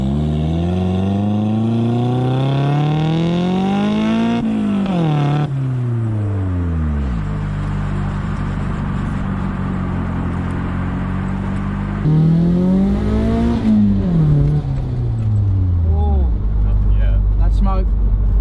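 An R31 drift car drives up a road, its engine climbing in pitch through revving gear pulls, dropping between shifts and surging again. The sound is loud and close, with people talking over it.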